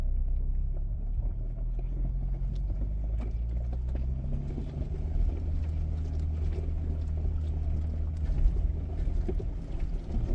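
A 4x4 vehicle engine crawls in low range first gear on Red Cone Trail, Colorado, a steady low rumbling idle with slight pitch shifts, close and continuous with faint crunching underneath.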